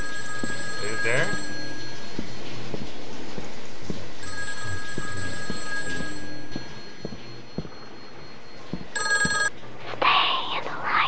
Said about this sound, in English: There's a cell phone.